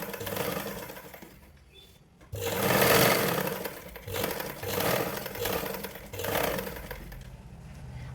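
A sewing machine stitching blouse fabric, its motor whirring in several bursts of rapid needle chatter that rise and fall in loudness, close by, with a short quiet gap between runs.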